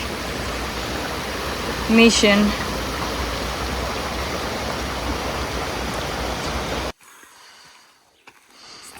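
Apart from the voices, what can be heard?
creek flowing water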